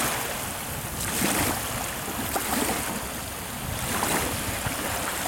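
Waves on a river with wild swans nearby lap and wash in a steady rushing hiss, with gentle surges and a low wind rumble, close and continuous with no talk.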